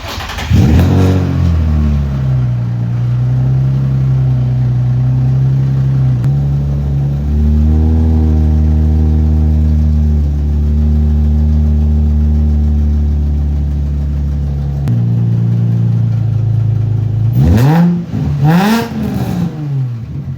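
A Nissan 350Z's VQ V6 engine with a custom exhaust built from scrap parts cranks and catches, settles into a low idle, then is revved up and down a few times, loud and close.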